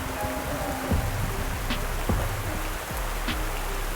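Steady rain patters and hisses on a surface at an abandoned temple, with a few sharp drip or knock sounds standing out at intervals.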